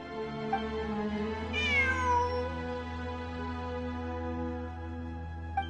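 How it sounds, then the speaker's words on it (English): A single cat meows once, clear and drawn out with a falling pitch, over a steady hum of background game music in a ruin exploration area. "I'm not hearing things. It really is a cat."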